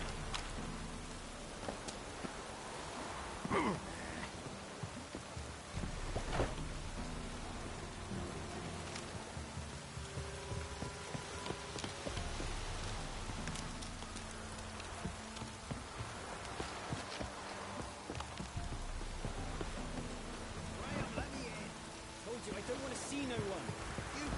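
Steady rain falls in the Witcher 3 game world, a dense hiss of drops on surfaces that runs throughout under people talking.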